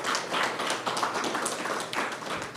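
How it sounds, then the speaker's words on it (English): Applause from a conference audience after an opening-ceremony presentation, a soft, fairly quiet patter of individual claps with some distinct taps, steady for a few seconds. "Let's give him another round of applause,"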